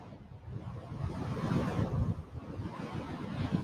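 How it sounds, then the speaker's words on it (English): AI-generated beach ambience from Google Veo 3: a steady, moderate wash of ocean waves breaking on shore with windy background rush, continuous and without voices. "So you can see that there is the beach noise in the background in terms of those the waves"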